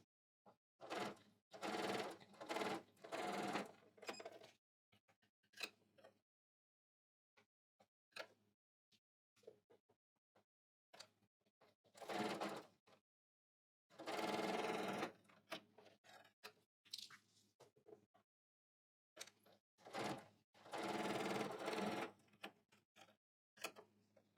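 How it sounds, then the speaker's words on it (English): A home sewing machine stitches a seam line along folded fabric at a 5/8 edge, running in several rapid mechanical bursts separated by short pauses, close and fairly loud with no talking. "I sew a line so it's easy to know where to press."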